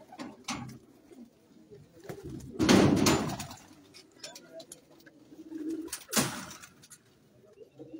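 Breeder pigeons coo in soft rounded phrases at close range, joined by a few sharp knocks and a louder burst near the middle, with faint voices in the background.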